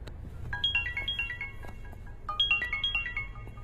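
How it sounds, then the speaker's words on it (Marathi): A phone ringtone plays a bright, repeating electronic melody in two close bursts, each a quick run of stepped notes, over a low background hum, from a scene in a Marathi action film. "त्याचा फोन"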